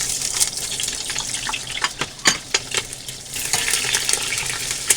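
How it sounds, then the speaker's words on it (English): White onion sautéing in oil in a hot pan, a steady bright sizzle with intermittent stirring scrapes and clicks, close and moderately loud, no talking. "we'll just saute our white onion"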